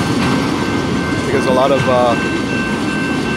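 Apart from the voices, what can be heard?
CP Rail freight train rolling by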